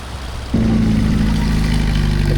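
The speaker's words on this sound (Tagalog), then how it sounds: "Talagang nahihirapan yung truck, oh. Punong-puno eh." A heavily loaded military service truck's engine kicks in abruptly and holds a loud, steady low drone as it strains under the full load, close by, with no talk.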